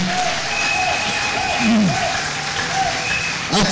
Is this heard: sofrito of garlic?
no